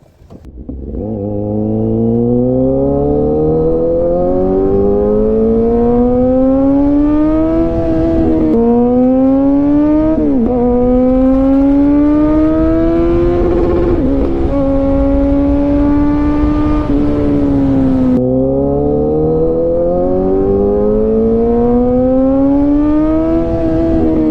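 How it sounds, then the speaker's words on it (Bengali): A TVS Apache RTR 160 4V motorcycle accelerates hard, its engine note climbing loudly through repeated rising pitch sweeps as it shifts up through the gears, with a brief dip between each pull, close and continuous throughout. "আর আমি ট্রাই করবো একটু বাইকটা জোরে টানার"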